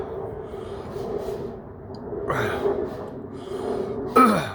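Someone gags and coughs twice after eating a very hot chili pepper, short harsh bursts separated by quieter breathing, close to the listener with no talking.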